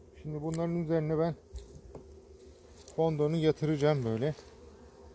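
Close, droning honeybee buzzing at a hive swells in two long bursts, with someone talking over it and quieter gaps between.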